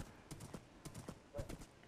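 Horse hooves clip-clopping in Minecraft on PS4, a quick run of soft rhythmic steps, fairly faint and close, with no speech over them.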